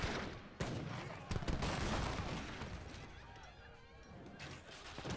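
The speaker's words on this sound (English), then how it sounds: "And here comes the mortar." Mortar and musket fire in the Age of Empires 3 strategy game: dense, overlapping volleys of gunshots and heavy booms at mid distance, with a steady battle din and commentary running over it.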